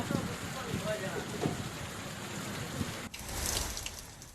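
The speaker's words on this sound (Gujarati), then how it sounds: "લખપતના વર્માનગર કોરિયાણી વિસ્તારમાં વરસાદ જોવા મળ્યો।" Rain falls in the Varmanagar and Koriyani area of Lakhpat, Kutch, as a steady, dense hiss that continues throughout, with a brief break near the end.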